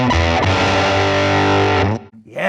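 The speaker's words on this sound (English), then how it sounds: "I have a super heavy riff that needs more teeth" A loud, heavily distorted electric guitar riff chugs with sustained crunchy chords for about two seconds, then cuts off abruptly into near silence.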